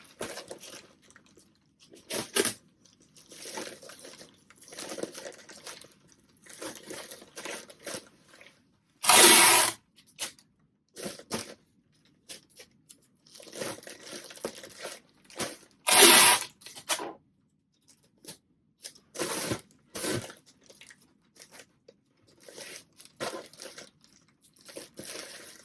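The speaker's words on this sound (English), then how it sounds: "Sorry for the noisy tape." Packing tape rips off a roll in loud, short bursts while a package is folded, with quieter crinkling and handling between the pulls, close up and without talk.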